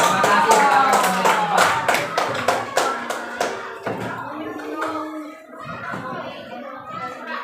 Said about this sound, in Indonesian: Kita beri aplaus untuk kelompok 5.